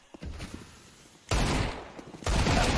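Rifle gunfire in a Counter-Strike match between G2 and MongolZ on the Ancient map: two loud sustained bursts of shots erupt after quieter game ambience with faint footsteps.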